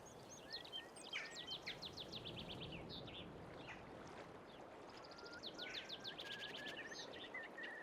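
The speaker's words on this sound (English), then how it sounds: "Lots of ambient bird sounds in the background." Ambient birdsong in a rural valley in Farming Simulator 22, quiet chirps and trills from several birds at a distance over a soft, steady outdoor background hiss, with no talking.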